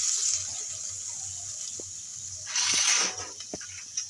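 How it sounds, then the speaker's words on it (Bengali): Washed, cut snake gourd drops into a hot cooking pan with coconut. A watery sizzle swells loudly for about half a second, then settles back to a low hiss with a few soft knocks. "এইবার আমি কেটে ধুয়ে রাখা চিচিঙ্গা দিয়ে দেবো।"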